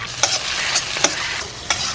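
Beef sizzles in a hot frying pan with vegetables while a utensil scrapes and stirs it, with four distinct scraping strokes over a steady frying hiss.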